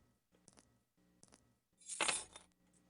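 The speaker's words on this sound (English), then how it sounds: "Keys, more keys." Keys jingling and clinking as they are picked up in the 1994 PC point-and-click FMV game Tex Murphy: Under a Killing Moon, a few light taps followed by one louder, bright jangle, heard close with no talk.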